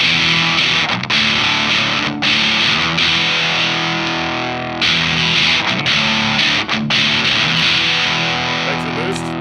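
Electric guitar played through a Thorpy FX Electric Lightning overdrive pedal on its drive setting, giving a loud, sustained, saturated tone with chords ringing continuously and brief gaps between strums, no talking.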